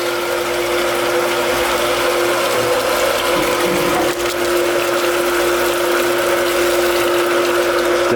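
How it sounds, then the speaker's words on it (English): Shallow well pump running continuously with a steady mechanical whir, rattling texture and a strong constant hum, loud and close throughout. "right now this pump's running"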